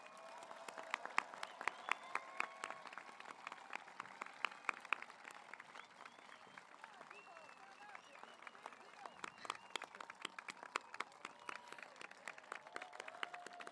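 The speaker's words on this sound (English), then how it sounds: "please join us for a round of applause for Dakota Collegiate's graduating class of" Audience at a Dakota Collegiate graduation convocation applauds the graduating class of 2022, a steady sustained wash of many hands clapping in a large hall, fairly distant and even throughout with no talking.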